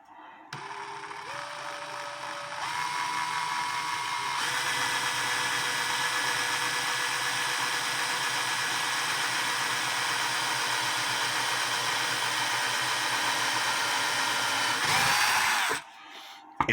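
A power drill with a 4.1 mm bit bores into wood, a loud whining motor that spins up in steps, holds a steady drone for about twelve seconds, then cuts off abruptly.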